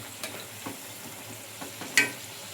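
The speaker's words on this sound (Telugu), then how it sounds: "ఇంకా ఇవైతే అటు ఇటు తిప్పుకుంటూ మంచిగా ఫ్రై చేసుకున్నానండి." Snacks frying in oil in a kadai, a soft steady sizzle with a few light clicks as the pieces are turned and one sharper clink near the end, close and quiet, with no talking.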